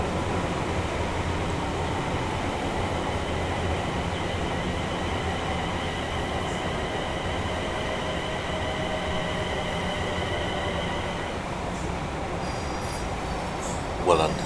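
A simulated stopping-service passenger train in Train Sim World runs steadily at around 70 mph between Milton Keynes and Euston, a continuous rail rumble with tonal hum that fades slightly near the end, ending in a brief clatter.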